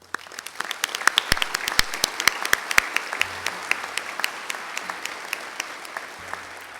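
Applause from the audience at the opening plenary of ICAO's Thirteenth Air Navigation Conference, greeting the Air Navigation Commission: a few scattered, sharp, close claps that swell into steady clapping, then thin out toward the end.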